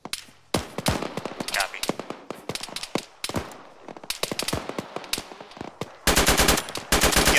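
Machine gun fire from an airsoft or simulated military building assault, with rapid bursts and scattered single shots, loud and close, over radio-style team chatter; a sustained full-auto burst comes near the end.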